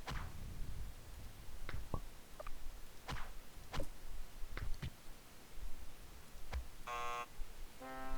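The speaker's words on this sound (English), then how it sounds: "Honk, honk. It sounds like the Taboo buzzer." Scattered clicks and taps lead into two short, harsh electronic buzzer honks from a video game near the end, loud and close.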